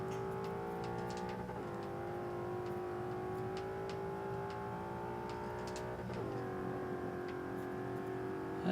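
Engine of a car in the Forza 5 racing game, heard from the interior view: a steady droning hum with a couple of brief pitch shifts, as if shifting gears, at moderate level.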